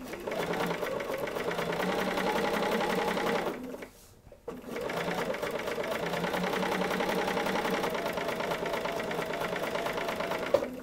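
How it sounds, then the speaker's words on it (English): A sewing machine stitches a line on a quilt block in a steady, rapid mechanical whir. It pauses briefly midway, then runs on continuously at moderate volume. "let's start off with a knot, and we're going to sew on that line"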